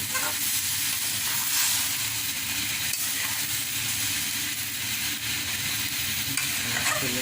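Vegetable curry with lentil bori simmering in a pan after water is added, giving a steady, close hiss and bubbling sizzle with faint stirring scrapes, no voices.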